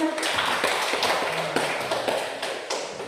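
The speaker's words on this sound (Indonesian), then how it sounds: "Oke, tepuk tangan untuk" A classroom of children claps in applause, a quick ragged burst of many overlapping hand claps, close and fairly loud, without talk.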